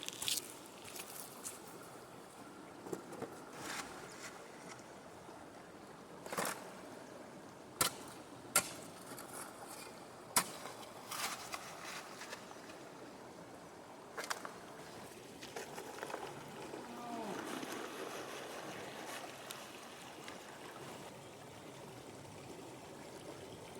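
Gold panning in a stream during a test pan: steady trickling water with intermittent sharp ticks and clinks of gravel and metal against the pan, close and fairly quiet, with no talk.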